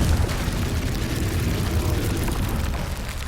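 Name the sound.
Confringo explosive spell cast in video game Hogwarts Legacy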